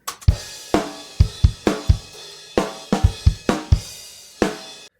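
A recorded drum track with noise gate problems: punchy kick, snare and cymbal hits in a steady groove, with decays cut short abruptly, loud and alone with no voices.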